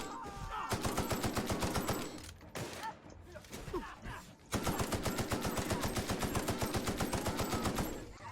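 Rapid automatic gunfire in The Outer Worlds video game, loud sustained bursts of shots with a brief lull of scattered sounds in the middle before heavy firing resumes.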